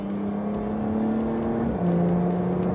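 Porsche 911 Carrera 4S Cabriolet engine in Sport mode, a steady close drone rising in pitch and then dropping after a gear change, heard alone without speech.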